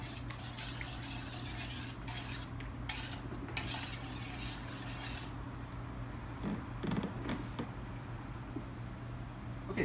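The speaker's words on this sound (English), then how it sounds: "And then stir it very well." Vinaigrette being stirred with a couple pinches of salt and pepper, a steady wet swirling and light clinking of a utensil against a bowl, close and continuous under a low background hum.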